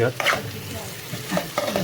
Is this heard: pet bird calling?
no